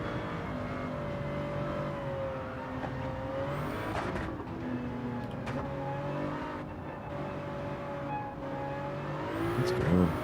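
Race car engine in Gran Turismo 7 droning steadily as it rises and falls in pitch through gear changes, with brief shifts and a louder surge at the end, no talk.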